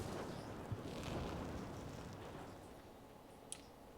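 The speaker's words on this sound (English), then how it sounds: "Fireworks spectacular" Fireworks display in the World of Warcraft video game: a steady low rumbling roar of bursts with a couple of sharp isolated pops near the start and end, fairly quiet and without any talking.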